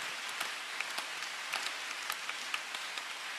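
Congregation clapping in a church during a Thursday evening worship service, a sparse, quiet patter of scattered hand claps with irregular individual strikes rather than a full ovation.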